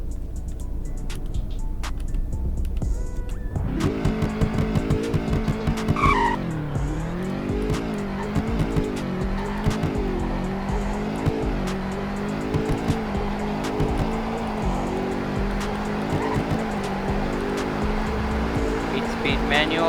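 A Roblox sedan or coupe in the Greenville game accelerates hard on a speed test, its engine note rising steadily and holding at a loud, sustained high-revving whine with brief tire-squeal-like bursts near the start.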